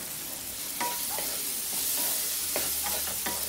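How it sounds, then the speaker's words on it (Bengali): Vegetables with Maggi masala stirred in a pan give a soft, steady sizzle, with a few light scraping strokes of the spoon, close and fairly quiet. "দেড় দু মিনিট হয়ে গেছে, এটাকে আমি নেড়ে দিচ্ছি।"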